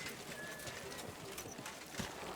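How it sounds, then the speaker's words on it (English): In Kingdom Come: Deliverance II, a horse answers a whistle, its hooves clip-clopping steadily as it runs close, with a brief faint whinny. "Whistling for my horse."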